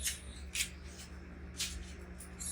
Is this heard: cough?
no